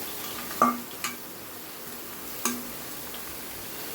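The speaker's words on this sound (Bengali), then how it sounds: "এই অবস্থায় দিয়ে দিচ্ছি কেটে রাখা লাউয়ের কুচিগুলো।" Chopped bottle gourd goes into a pan of frying mustard and chilli, giving a soft low sizzle with a few sharp knocks of a utensil on the pan, close by and quiet, with no talk.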